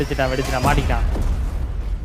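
An explosion in the God of War video game booms over a low rumbling bed, with a voice talking over the blast at the start.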